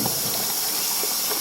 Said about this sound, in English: I'm washing dishes